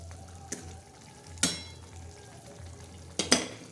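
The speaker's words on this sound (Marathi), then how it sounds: "आता ही भाजी सगळी हलवून घ्यायची" A yellow-green chicken curry is stirred in a pot over a quiet, steady simmer. Several sharp clinks and scrapes of a spoon against the metal break through the sizzle.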